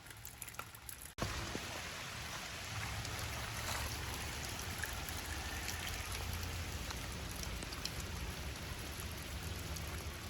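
Steady rain falls outdoors, a dense even patter with occasional heavier drops, continuous and fairly close after a brief quieter moment at the start.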